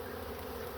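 Low, steady droning hum of a wild honeybee swarm, a soft continuous buzz of many wings with no pauses or voices.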